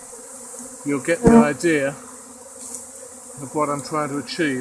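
A swarm of bees just tipped out of a flower pot keeps up a steady, close insect buzz while someone talks over it in short phrases.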